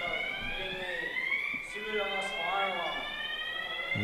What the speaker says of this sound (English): we've got a fire alarm going on